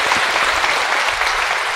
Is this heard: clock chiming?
no